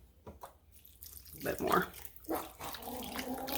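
Water is poured into a crock pot in a home kitchen, splashing and gurgling in uneven bursts with a brief louder gush midway, under quiet speech.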